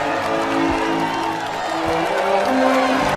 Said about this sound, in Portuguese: a galera começa a aplaudir todo mundo ali porque eles basicamente petrificaram o cara